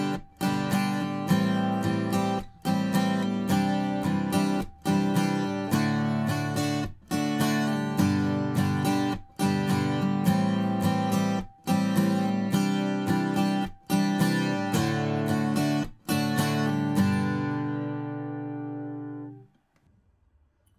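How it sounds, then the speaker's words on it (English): Acoustic guitar chords strummed in a steady pattern with a palm-muted half-beat gap recurring every bar, loud and close, ending on a final chord left to ring out and fade. "but I'm going to put my right hand on the guitar strings so that it stops the notes from ringing"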